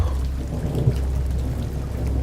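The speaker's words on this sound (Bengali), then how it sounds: "বাইরে বৃষ্টিটা ফের শুরু হলো।" Rain and thunder effect in a Bengali audio story: a steady, loud wash of rain with a deep low rumble of thunder throughout, alone without any voices.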